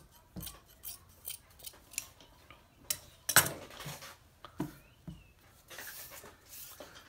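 Scissors snipping through fabric while cutting pieces for a bra, a series of crisp irregular snips and blade clicks close by, quiet between cuts, with no talking.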